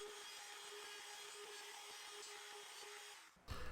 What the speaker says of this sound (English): This is a 3/32 inch roundover with the small bearing.